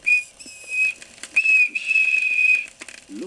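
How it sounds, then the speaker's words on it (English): A toy train whistle gives a few close, steady shrill toots, each held for about a second, with faint clicks between them. "And he blew his whistle."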